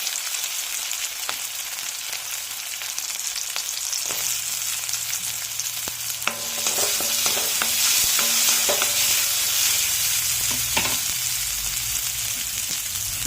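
Crushed ginger and garlic with chopped shallots fry in hot oil for a drumstick and potato theeyal, giving a steady, close hiss of sizzling broken by occasional stirring clatter.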